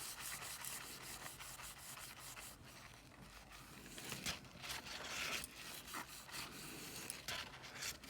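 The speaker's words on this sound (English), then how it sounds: "And I just keep rubbing." Cloth rubs polish onto a stainless steel straw with a soft, continuous scrubbing and scraping sound, very quiet and close, with uneven strokes.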